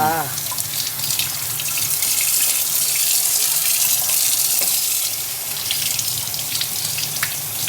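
Tap water pours steadily as food is rinsed inside under a running faucet in a home kitchen, a continuous close splashing gush that lasts throughout.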